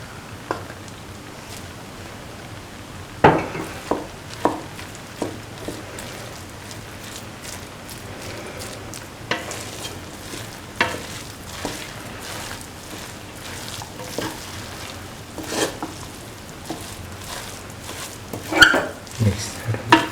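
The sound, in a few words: stirring rice with mung beans and carrot in pan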